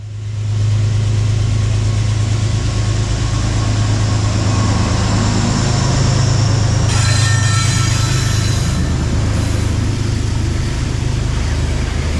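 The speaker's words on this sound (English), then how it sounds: "New Haven PC Decal 230 departs with train 1868 towards Danbury with a big cloud of black smoke" New Haven locomotive 230 in PC decal livery pulls train 1868 out of Merritt 7 station toward Danbury, a loud, steady diesel rumble close by for the whole stretch, with a brighter hiss rising briefly partway through.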